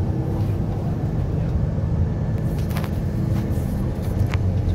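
A steady low rumble of road traffic and idling engines fills the inside of a bus stuck in a traffic jam, with a few faint clicks and knocks over the drone.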